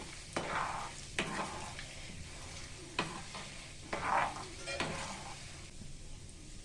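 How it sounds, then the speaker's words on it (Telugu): Chana dal fries in oil for a tomato pickle, with soft steady sizzling and several distinct metal spoon scrapes and taps against the pan as it is stirred. "ఇప్పుడు ఇది ఒకసారి ఫ్రై చేద్దాం."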